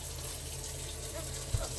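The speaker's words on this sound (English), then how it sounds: "I'm going to turn on this spigot." Water runs steadily from an outdoor spigot at a tankless hot water heater setup, a constant broadband rush with a brief low thump near the end.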